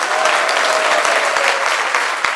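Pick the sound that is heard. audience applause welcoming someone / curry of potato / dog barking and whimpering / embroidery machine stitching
audience applause welcoming someone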